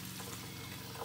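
Steady tap water running continuously into a tray to rinse cyanotype prints on fragile paper, a soft even wash of flowing water with no talking.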